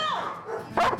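Dogs bark at a family home, with a short, sharp yap bursting out near the end of a brief stretch of tonal vocal sound.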